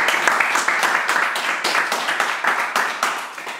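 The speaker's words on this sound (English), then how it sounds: "We're going to give Sinella a round of applause." Audience members at a lecture on Black Power clap steadily and densely throughout, a close, continuous round of applause with no talking over it.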